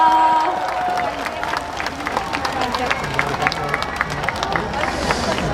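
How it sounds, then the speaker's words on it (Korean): Crowd applause at an outdoor trot song festival performance, scattered clapping mixed with cheering and murmuring voices, an announcer's voice faintly over it. "여러분 다시 한번 큰 박수 보내주세요"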